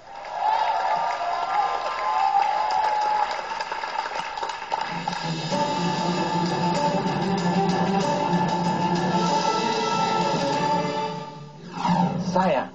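A studio audience at a televised stand-up comedy show on Kompas TV claps and cheers for a comedian, a loud, steady crowd roar that fills the whole stretch and swells again near the end.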